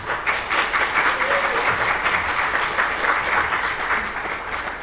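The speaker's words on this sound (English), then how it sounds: "Applause for Nina." Audience applause at a tourism event in Finnish Lapland, loud sustained clapping from a crowd holding steady for several seconds.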